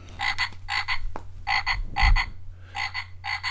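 A frog croaks in repeated rhythmic pulsing bursts, each a buzzy doubled call, close and steady over a low background hum, with no talking.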